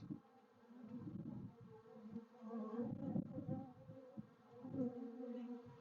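Honey bees buzz around a hive close by, a steady low drone that swells and fades as individual insects pass near.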